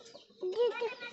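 A rooster or chicken gives a few short throaty clucks and calls at close range, with faint background noise and a brief voice-like sound near the start.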